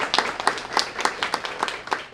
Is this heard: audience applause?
yes